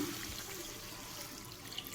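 A small amount of water pours into a cooking pot of simmering meat, a soft, steady liquid rush that runs the whole time at moderate level with no talking.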